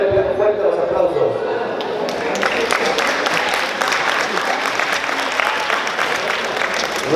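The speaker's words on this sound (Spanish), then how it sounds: "para la cual le pido fuerte los aplausos" Applause at a quinceañera celebration in Ameyaltepec: a crowd claps steadily and loudly, swelling after the first couple of seconds into dense, continuous clapping that carries on without pause.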